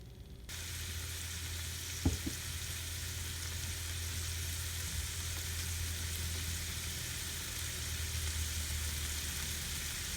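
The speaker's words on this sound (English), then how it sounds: "while that's stir frying" Steady hissing sizzle of vegetables stir frying in a pan, continuous throughout, with a couple of brief clanks near the start and a low background hum.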